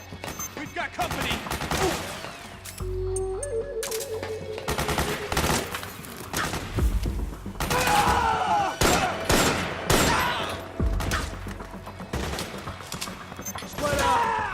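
Machine gun fire in Metal Gear Solid 4, loud bursts of rapid shots mixed with sharp impacts and metallic battlefield clatter, coming in repeated volleys with short pauses.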